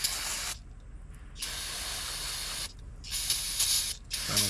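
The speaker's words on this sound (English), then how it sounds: "I'll spray this off with some brake clean." Aerosol brake cleaner sprayed onto a Polaris Ranger utility vehicle during repairs, a loud close hissing spray in several bursts with brief pauses between them.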